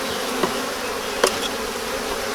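Honey bees from a newly installed package hum loud and close around the hive boxes in one unbroken drone, with a couple of faint knocks.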